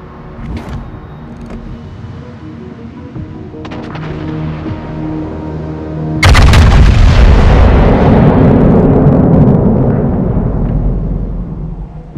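Naval artillery from a warship in the video game World of Warships Legends booms out in a heavy blast after a quieter stretch of engine hum and faint thuds, leaving a loud rumbling tail that slowly fades.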